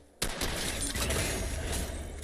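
Rapid, loud gunfire in Fortnite Reload, a dense sustained burst of overlapping shots starting abruptly and continuing without pause, with no talk over it.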